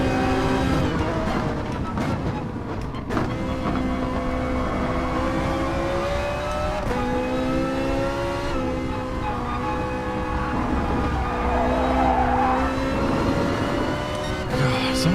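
Honda NSX race car engines in a sim racing game, loud and close, with repeated rising revs and gear changes, other cars droning alongside and the occasional tyre squeal.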